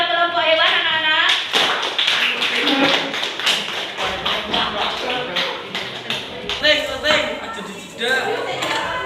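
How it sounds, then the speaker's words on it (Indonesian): Classroom children clapping for a group of classmates, sharp, irregular hand claps and taps close by, mixed with children's voices and chatter throughout. "Beri tepuk tangan pada kelompok hewan, anak-anak."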